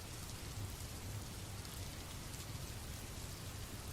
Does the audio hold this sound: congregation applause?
no